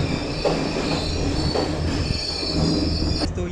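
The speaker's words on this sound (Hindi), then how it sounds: "ये है कोलंबो का जो लोकल ट्रेन होता है" A local train at Colombo Fort railway station in Sri Lanka rumbles on the platform with steady wheel squeal and rail noise, loud and close, with no voices.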